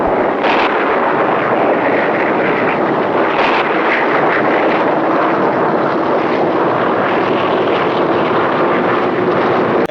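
A passenger plane flies over the high Andes on the way to South America, its cabin engine roar a dense, unbroken drone that stays loud and steady for the whole stretch.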